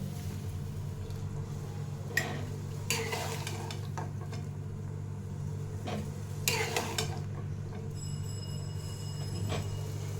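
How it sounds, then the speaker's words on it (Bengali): Boiled cauliflower is lifted from a pan onto a plate: a few sparse, faint clinks and scrapes of utensil on cookware over a steady low hum. "এবার আমি ফুলকপিগুলোকে একটা প্লেটের মধ্যে তুলে নেব"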